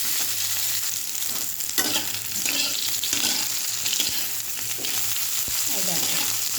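Potatoes and other ingredients frying in hot oil before crab goes in, a steady loud sizzle and crackle with occasional stirring scrapes, no voices.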